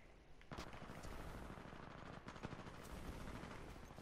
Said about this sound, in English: I'm just getting shot from like everywhere.